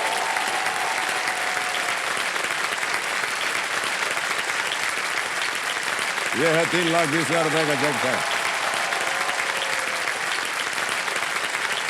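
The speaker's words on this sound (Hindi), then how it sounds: "तालियां बज जाए इनके लिए।" A TV game show studio audience claps steadily throughout, a dense continuous wash of applause, while someone speaks briefly over it partway through.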